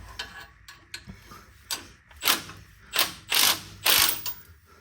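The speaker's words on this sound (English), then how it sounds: "slowly start to loosen where the spring is compressed" Ratchet wrench loosening a coil spring compressor on a Lexus GX470 rear suspension, a series of sharp clicking bursts that come faster and longer toward the end, close and alone.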